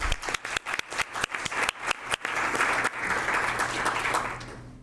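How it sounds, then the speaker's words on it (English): A council-meeting audience in Salem claps, starting with a few sharp separate claps that quickly swell into a dense, steady round of applause that holds to the end. "I think we should give you a round of applause"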